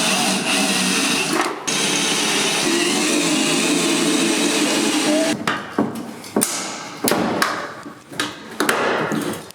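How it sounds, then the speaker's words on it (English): Power drill boring holes into the body of a totaled Ford Transit T-250 van in a repair shop, a sustained whine for about five seconds, then several short bursts of drilling with brief pauses between them. "You know I like drilling holes."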